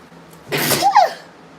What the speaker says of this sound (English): Sneeze just came out of nowhere.